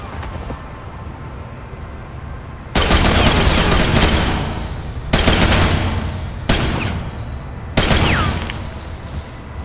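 Loud bursts of automatic gunfire from the video game Ghost Recon, four heavy volleys over a steady background din, each lasting about a second or more with short gaps between them.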